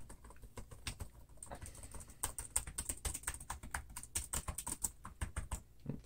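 Rapid typing on a laptop's chiclet keyboard, a budget Motile Ryzen 5 gaming laptop, with quick irregular clusters of soft, close key taps that keep going alone.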